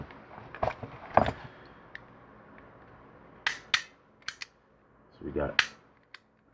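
A Sparrows Double Tap lock pick gun snaps in a series of sharp, separate clicks, some in quick pairs, with a person briefly talking between them.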